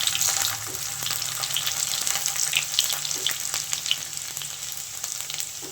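Garlic cloves and fenugreek sizzle and crackle steadily in hot oil for a fish curry, with occasional stirring sounds over the continuous frying.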